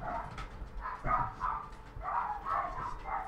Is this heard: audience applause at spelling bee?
no